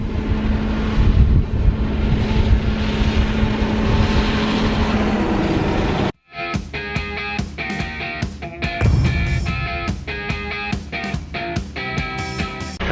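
Manitou MLT 741 Vario Plus telehandler engine runs loud and steady during muck spreading, with a continuous broadband roar that gives way to a rhythmic clanking, thudding mechanical pattern close to the microphone, plus wind buffeting.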